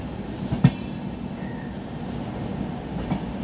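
The Kanchanjangha Express rolls along on its way to Kolkata with a steady, low rumble of wheels on track, a single sharp clank near the start, and a faint squeal partway through.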